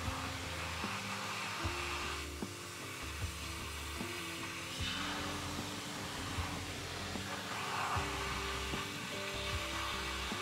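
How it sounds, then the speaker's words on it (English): Pressure washer spray from an MTM lance fitted with a CARSCOPE nozzle, blasting a farm truck: a steady, loud hissing rush over a low pump drone that runs without a break for the whole stretch. "So we're using an MTM Lance with a CARSCOPE nozzle."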